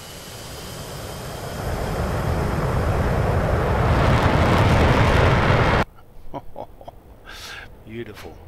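Twin jet engines of an F-15E in DCS World build into a loud, rising broadband roar on the takeoff roll, swelling for several seconds before cutting abruptly to a quieter cockpit with scattered clicks and tones.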